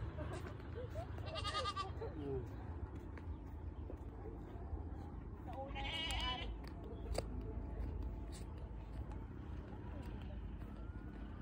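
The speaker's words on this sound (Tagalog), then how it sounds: "Sabi ng kambing." Goats bleat twice from nearby in a rural Antique farmyard, with short wavering cries spaced a few seconds apart over low rumbling background noise and nearby talk.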